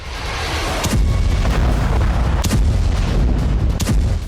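Bombs explode on the outskirts of Tehran, heavy booms landing roughly a second or so apart over a loud, continuous low rumble, distant yet powerful.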